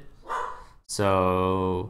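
A dog barks in the background, a single loud harmonic bark following a brief spoken word.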